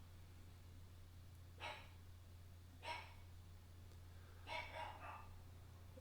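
A dog barks faintly in the distance, three short separate barks over a steady low hum in an otherwise quiet room.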